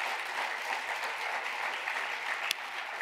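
Applause from an audience breaks out midway through a talk on criminal justice and punishment, a steady, dense wash of clapping that holds for a few seconds with no voice over it.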